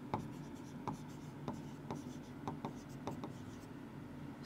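Pen scratching across paper while answering English poem questions, a series of short strokes and taps at a steady loose rhythm over low room hum, close and fairly quiet.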